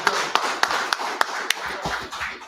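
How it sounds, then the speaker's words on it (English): A small gathering at a Feast of Purim service in Charlotte, North Carolina claps for the general: a handful of sharp, evenly spaced claps with a softer patter between them, which trail off near the end. "clap it up for the general"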